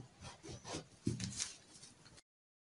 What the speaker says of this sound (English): I'm going to join the lines together with my ruler.